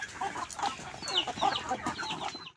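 Several chickens on a farm cluck and squawk close by in quick, overlapping bursts, a lively stretch of hen chatter with no voices over it.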